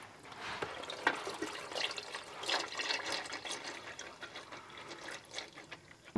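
Engine oil draining from an Isuzu sump into a catch pan, a fluctuating liquid pour and splatter with trickling and dripping, moderately near and alone.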